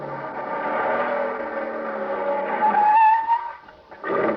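In a 1953 radio suspense drama, a car speeds along at about 65 miles an hour while its engine drones under music, then its tires give a short, sharp squeal near the end.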